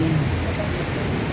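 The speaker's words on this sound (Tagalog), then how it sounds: "biglang buhos ang ulan" Sudden heavy downpour in Makati City, a dense continuous roar of rain hitting surfaces, loud and close throughout.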